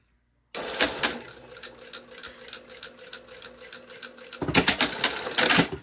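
A sewing machine stitches down a pleat in a jacket lining, starting after a brief silence with a steady whirring run, then faster, louder bursts of stitching toward the end.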